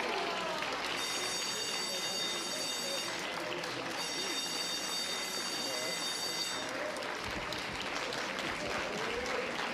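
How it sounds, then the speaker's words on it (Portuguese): Sustained applause fills the Brazilian Senate chamber during Dilma Rousseff's impeachment trial, a dense, steady wash of clapping from a large crowd that continues throughout, with indistinct voices mixed in. "peço que não aplaudam, nós estamos num julgamento"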